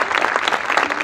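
A concert audience applauds an orchestra at a band's 15th-anniversary show at El Pórtico in Crespo. The clapping is dense, close and loud, a brief continuous burst.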